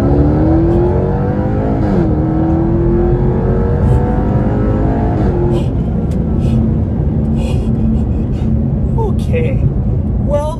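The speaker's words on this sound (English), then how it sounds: "The V8 is like, argh. I'm gonna gas it here." Jaguar XE SV Project 8 V8 in race mode accelerating hard, a loud continuous engine roar with rising harmonics as revs climb, running throughout with someone talking over it.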